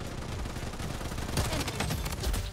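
Rapid MP5 submachine gun bursts in the Bloodstrike video game, several quick volleys of crackling automatic fire, loud and close.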